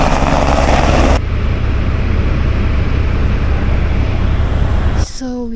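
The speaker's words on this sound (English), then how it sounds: "Helicopter over there. Oh my god! Yellow helicopter." A yellow helicopter flying near Mount Everest in Nepal gives a loud, steady rotor and engine drone throughout. Voices are briefly mixed in at the start, and the sound drops slightly near the end.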